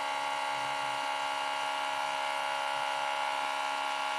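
Homemade axial pulse motor with four coils and four neodymium magnets spinning at over 4,000 RPM, giving a steady, high, buzzing whine with fine harmonics that holds evenly from start to finish.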